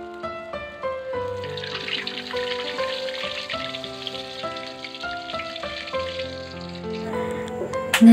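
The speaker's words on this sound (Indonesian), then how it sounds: "di sini aku sambil goreng tempe" Tempeh frying in hot oil in a home kitchen gives a steady, continuous sizzle and crackle that runs throughout, under melodic background music.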